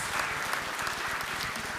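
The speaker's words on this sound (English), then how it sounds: "Let's give a round of applause." Sustained applause from a conference audience at an innovator award announcement, dense and steady throughout with no pauses, fairly close and full.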